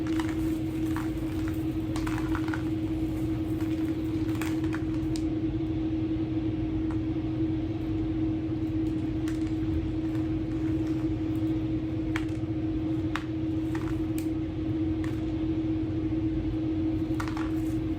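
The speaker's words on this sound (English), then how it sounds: "They have some sort of crane going on." Construction crane running at a house building site nearby, heard as a steady low mechanical drone with a constant hum throughout, plus scattered faint knocks and clatters.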